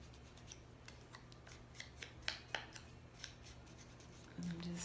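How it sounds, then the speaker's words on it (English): Edges of a paper card are scraped and distressed with a tool, making a run of quiet, irregular scratchy strokes close by, some sharper than others, with a faint low hum underneath. "I'm just distressing the edges so there won't be that dark."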